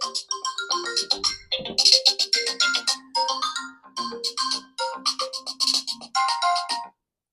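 A bright, melodic ringtone plays through the loudspeaker of an itel S25 phone, a quick chiming tune of rapid notes running for several seconds before stopping.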